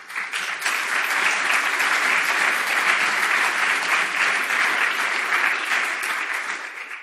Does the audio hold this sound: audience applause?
yes